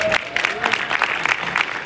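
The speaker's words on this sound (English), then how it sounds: "So can we get a round of applause for that?" Audience applause rings out in a short, dense burst of clapping from a crowd at a community event, fairly close and steady for under two seconds.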